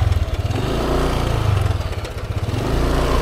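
A lowered motorcycle's engine runs at a steady, rough, loud idle close by, its low throb pulsing evenly with no talk.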